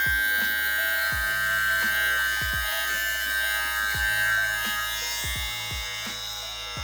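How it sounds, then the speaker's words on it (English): A Brio hair clipper with a shaver foil guard snapped on runs in a steady, close electric buzz, with faint intermittent ticks and clicks under the constant hum. "this Brio clipper that I have comes with a shaver foil guard that I can just kind of pop on"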